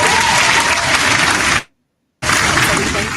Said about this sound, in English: Do the claps on that.